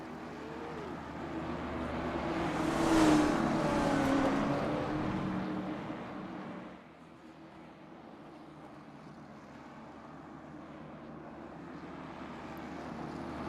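A pack of late model race cars rolls off at North Wilkesboro Speedway, their broad engine rumble building to a loud swell as they pass, then dropping to a steadier, more distant drone.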